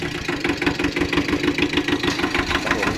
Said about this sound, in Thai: ตัวนี้จะเป็นฮอนด้าสูบเดียวครับผมใช้งานได้ปกติ